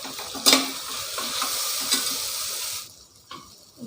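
Soy chunks with a little salt sauté in a pan with a bright, hissing sizzle and scraping stirs, the frying dropping off sharply near the end before a final faint scrape.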